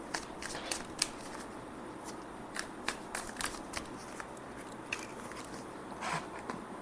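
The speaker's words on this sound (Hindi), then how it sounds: "2 कार्ड्स हम लोग रोमांस एंड लव डेक से भी ले लेते हैं।" Tarot cards shuffled and drawn from a deck, a steady run of soft papery riffles with sharper snaps and flicks scattered throughout, close and fairly quiet, with no voices.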